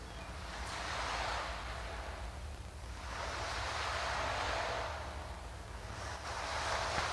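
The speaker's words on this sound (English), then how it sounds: "The breaking wave on the seashore." Waves breaking on the seashore, three broad swelling rushes of surf rising and fading in slow succession, heard alone and fairly faint.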